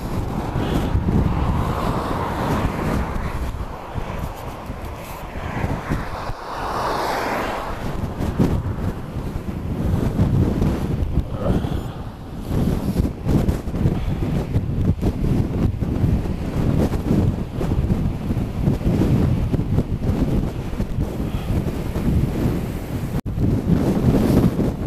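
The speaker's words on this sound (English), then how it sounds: "The wind is that bloody strong" Strong wind buffets the microphone on an exposed hill climb across Shap, a constant loud roaring rush with gusty swells and no voices.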